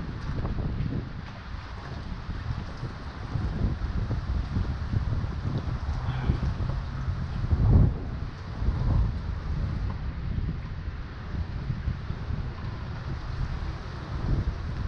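Strong wind roars continuously against the microphone on open water by the St Pete Pier during kayak fishing, a dense rumbling buffet with gusts swelling and fading throughout.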